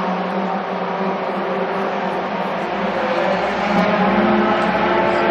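Race cars at the 2020 Daytona 24 qualifying roar past in a loud, continuous engine drone, swelling slightly toward the end as they pass close by.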